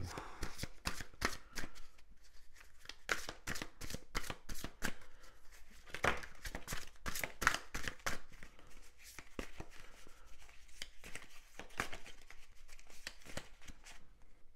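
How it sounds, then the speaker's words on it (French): Tarot cards are shuffled by hand in repeated close, crisp riffling bursts separated by short pauses, quiet and with no talk. "ici on va prendre plusieurs cartes pour ce tarot"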